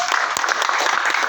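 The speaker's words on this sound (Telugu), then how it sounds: "గట్టిగా గ్రాండ్ క్లాప్స్" A gathering claps loudly for a small honouring ceremony at an e-bike business event, a brisk, dense burst of many hands clapping close by, steady from start to finish.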